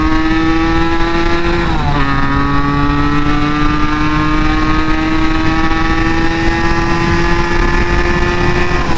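A motorcycle nicknamed Dulari on a highway near Nandi Hills, ridden gear to gear, gives a loud, continuous engine drone that rises in pitch, dips briefly at a shift, then climbs steadily again.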